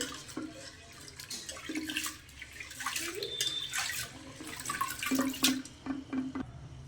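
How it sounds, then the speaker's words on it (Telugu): Water splashes and trickles as it is poured over lentils for washing in a kitchen, soft intermittent sloshing and drips at close range, with faint clinks. "ఒకసారి అయితే నీళ్ళు పోసేసి మంచిగా వాష్ చేసుకోవాలి పప్పుని"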